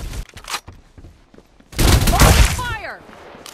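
Rapid gunfire in the Farlight 84 video game: a few short shots crack early on, then a loud sustained burst of automatic fire. A game character's voice comes in as the burst trails off.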